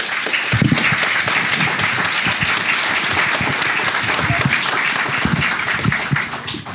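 Sustained applause from an audience at a conference in Créteil, France, a dense steady wash of many hands clapping throughout at full loudness, with a few faint voices underneath.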